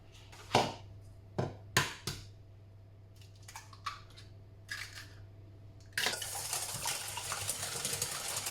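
Two eggs cracked into a bowl, with several sharp close taps and cracks in the first seconds, a few softer clicks, then a steady broadband rush of running water near the end.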